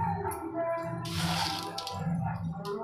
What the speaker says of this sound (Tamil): இந்த அளவுக்கு தண்ணி விடணுங்க.